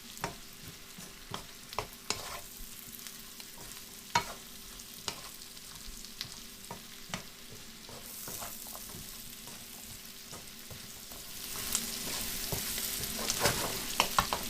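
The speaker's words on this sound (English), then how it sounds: "And stir them in. Make sure they're kind of coated in what's left of the oil and the spices, and get them started to cook." Vegetables sizzle and fry steadily in a pan with leftover oil and spices for a vegetable curry, stirred with repeated scraping clicks of a spoon, the frying growing louder and brighter toward the end.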